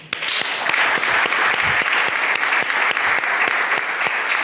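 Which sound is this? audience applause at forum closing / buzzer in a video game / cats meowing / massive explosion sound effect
audience applause at forum closing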